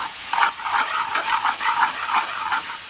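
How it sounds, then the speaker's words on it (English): Steam hisses steadily from onions softening in a hot pan, a dense airy sizzle that pulses gently throughout with no talking. "Okay, it's generating steam already."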